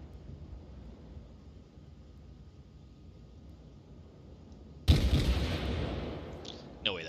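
Naval guns in World of Warships fire at a target: after a low steady rumble of engine and sea ambience, a sudden loud broadband boom erupts and trails off, with a second sharper report shortly after.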